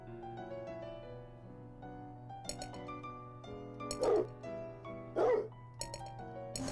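Dog barking in the video game Whack the Serial Killer, two bursts of barking a second apart over steady game music, fairly loud and close.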